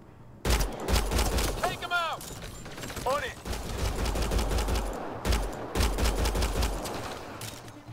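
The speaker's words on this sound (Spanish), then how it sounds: "Voy a salirnos a tiros." Bursts of gunfire crackle through a firefight in the sci-fi video game Mass Effect Andromeda, repeated volleys under a dense background of game sound, with a pause before another loud salvo.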